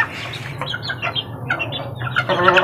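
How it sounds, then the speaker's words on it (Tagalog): Mother hen cackling repeatedly before laying an egg, loud close clucks in an irregular series over a low steady background hum. "Itong inay na to nagkakakak to, ibig sabihin mangingitlog yan."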